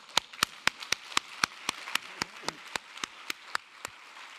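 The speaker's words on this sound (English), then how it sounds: "Let's give them big applause." Sparse applause at a formal address, a slow scatter of separate, distinct claps about every quarter second from only a few people, fairly quiet and without voices.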